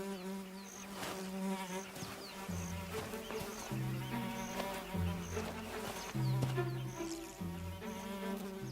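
Tsetse flies buzz around big predators on a hot, insect-filled day, a steady close drone with wingbeat tones rising and falling, joined by brief chirps, continuing throughout without any talk.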